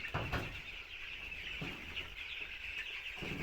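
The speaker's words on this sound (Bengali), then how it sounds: "এইভাবে ব্রয়লার মুরগিকে" Broiler chickens cluck and murmur steadily inside a poultry farm shed, a dense flock chorus at moderate distance with a few louder calls near the start, with no talking.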